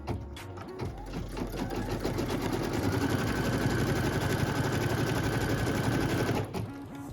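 A sewing machine stitches a tack-down line on a quilt block with a steady, fast, loud mechanical whir that runs almost the whole time, with a brief pause near the start and a drop near the end, and no talk.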